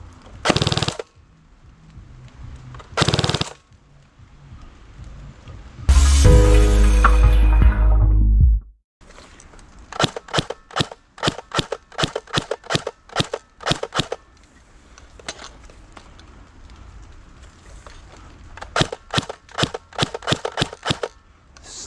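A CYMA CM.060 P90 airsoft SMG fires outdoors toward a tree about 40 meters off: two single sharp cracks, a loud sustained full-auto burst, then a long run of crisp evenly spaced semi-auto shots.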